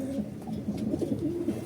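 A bird coos softly and repeatedly in low, throaty notes, heard close and alone over faint background noise.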